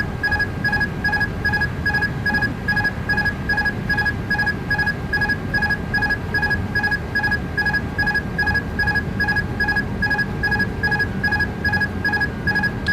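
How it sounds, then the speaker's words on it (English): Insistent electronic cockpit warning beeps from a flight simulator game repeat in a fast, steady pulse for the whole stretch, loud and unbroken over a low rumbling background. "I'm really sorry about the beeping"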